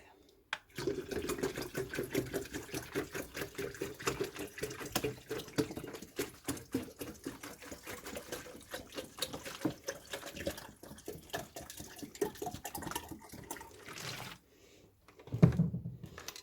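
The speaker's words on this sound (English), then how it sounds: "So I'm just going to go ahead and pour that into the tank." Salt water culture, made from RO water with reef salt, is poured into a tank for an algae culture. It makes a steady trickling, splashing stream that runs for most of the time and then stops, with a few drips at the end.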